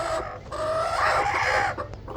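Native chickens kept on a rooftop cluck close by in a busy, uneven chorus, with one louder drawn-out call in the middle. No one speaks.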